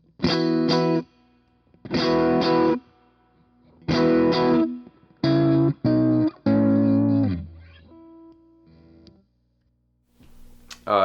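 An electric guitar runs through a Morning Glory overdrive pedal set to light drive, playing bursts of strummed chords with mild breakup, each separated by short pauses, then a few softer single notes ringing out near the end.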